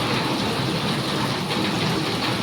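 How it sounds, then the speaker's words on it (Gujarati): Steady rain falls in a side lane beside a shop, a dense, even hiss with no pauses and no voices. "સાઈડમાં ગલીમાં વરસાદની શું હાલચાલ છે."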